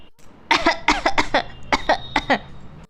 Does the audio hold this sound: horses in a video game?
no